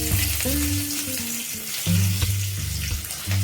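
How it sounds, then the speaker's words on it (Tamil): Mustard seeds, lentils and curry leaves added to hot oil for a hotel-style kara chutney, giving a loud close crackling sizzle with spattering pops and a few stirring knocks, no talk. "எண்ணெய் காஞ்சிருச்சு கொஞ்சம் கடுகு வந்து பருப்பு போட்டுக்கிறேங்க கருவேப்பிலை கொஞ்சம் போட்டுக்கிறேன்"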